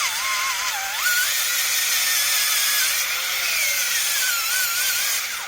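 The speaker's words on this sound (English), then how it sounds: "take the drill, and then just force it down like this" A hand drill is forced down into a piece of wood and grinds loudly and steadily, its whine rising and falling in pitch as the bit bores in, up close with no talking.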